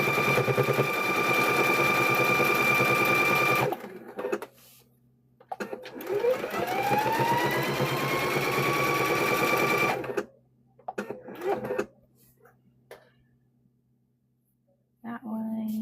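A sewing machine back stitching a kitchen hand towel, running in loud rapid bursts that stop and start, with quiet gaps and a brief voice between runs.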